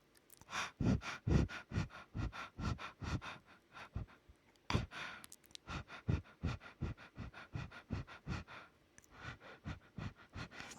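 A person imitates a dog panting: rapid, rhythmic breathy huffs in steady bursts, close and fairly quiet, with a short pause midway.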